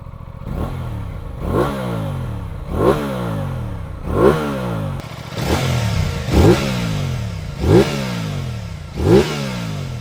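A 2024 Aprilia Tuono 660 Factory naked motorcycle engine revs sharply about seven times in a steady rhythm, each blip rising and falling back to a rough, aggressive idle.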